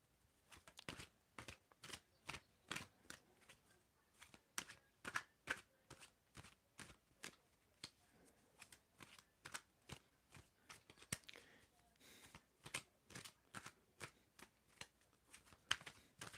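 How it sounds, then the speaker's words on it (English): Tarot cards shuffled by hand in a steady run of crisp riffling snaps, about two per second, close and fairly quiet, with no talking. "Tell me when to stop shuffling, Julie."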